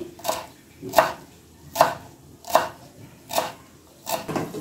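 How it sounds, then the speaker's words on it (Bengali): Coriander leaves finely chopped with a knife on a board: six evenly spaced, crisp chopping thuds, close and clear with quiet gaps between, no voice. "ধনে পাতাটা একটু কেটে নিই ঝিরিঝিরি করে।"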